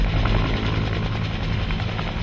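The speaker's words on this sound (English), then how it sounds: "UH-1N Huey is a medium-sized twin-engine utility helicopter that was developed by Bell Helicopter for the United States military" A Bell UH-1N Huey, the twin-engine military utility helicopter, roars steadily and close by with a dense rotor thrum and engine whine, and no voices.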